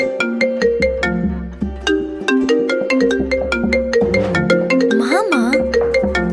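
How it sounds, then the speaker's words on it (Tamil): A mobile phone ringtone plays loud and close, a bright repeating electronic melody of tuned chimes with a steady bass pulse, running continuously without pause. "ஃபோன் ரிங் ஆகுது"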